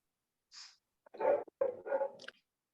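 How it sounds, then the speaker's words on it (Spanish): Dogs in a neighbourhood, a few short bursts of barking or growling vocalisation, fairly faint and distant-sounding, separated by silence. "justo hay unos perros que no sé si se escuchan"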